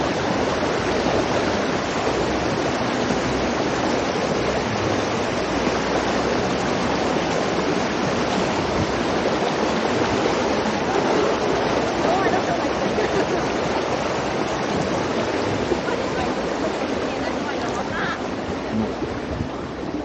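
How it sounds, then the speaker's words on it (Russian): Rushing, bubbling river water in a Singapore park, Ang Mo Kio–Bishan, a loud, steady broadband roar that fills the whole stretch without a break, close by, with a voice faintly present beneath it. "Я надеюсь, что вообще мой голос слышен за шумом бурлящей воды."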